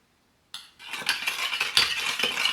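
A utensil stirs teriyaki sauce of sake, mirin and sugar in a bowl, making a brisk, continuous clinking and scraping close by that starts abruptly after a short silence.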